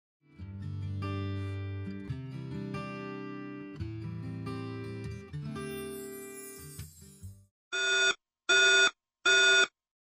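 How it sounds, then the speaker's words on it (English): A SmartGuard-63A grid-tied/off-grid solar controller showing fault 2082 sounds an alarm: a tonal, music-like chime for several seconds, then three loud, evenly spaced electronic beeps, each about half a second, close and clear with no talking. "(2082) alarm. Grid tied or off-grid controller abnormal."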